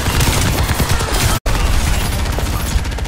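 Weapon fire in Overwatch 2 from the hero Symmetra: a loud, dense, unbroken barrage of firing and impacts, cut by a single abrupt dropout midway, then continuing at full intensity.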